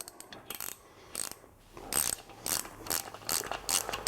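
A hand ratchet winds nuts down onto the cylinder head studs of a classic motorcycle under restoration, with rapid close-up pawl clicking in repeated bursts separated by brief pauses.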